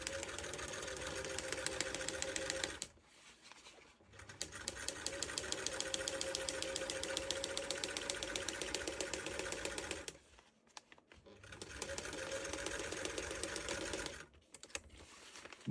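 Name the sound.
sewing machine stitching hovercraft skirt material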